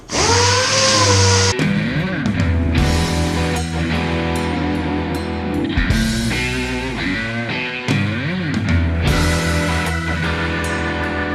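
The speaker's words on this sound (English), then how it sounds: "now it's time to sand. I got 120 on here. You know, it's Ingersoll Rand DA." An Ingersoll Rand DA sander with 120-grit paper works over a front bumper on a Mitsubishi Eclipse GSX, a loud, close, whining pneumatic drone that rises and dips as pressure on the panel changes.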